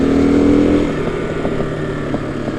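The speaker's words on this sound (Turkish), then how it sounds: "Ya abi patır patır orijinal egzoz diyor." A motorcycle with its stock exhaust runs close by with a throaty, loping idle, settling from a slightly higher rev into a steady burbling rhythm.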